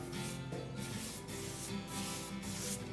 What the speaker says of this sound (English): Then you get into your paint. Brush it on.